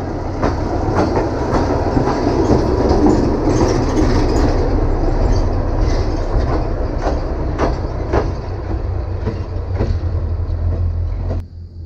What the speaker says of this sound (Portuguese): Não é um trem, mas é um coisinha pequena. É uma vagonete.